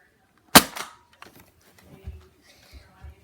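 A Nerf gun fires a foam dart with one sharp, close snap, followed by quieter rustling and soft footsteps or movement, with voices nearby.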